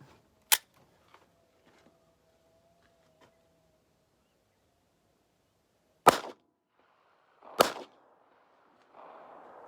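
Two sharp, loud reports from a Glock 44 pistol firing bulk rimfire rounds outdoors, the shots a second and a half apart and standing alone after an earlier single shot.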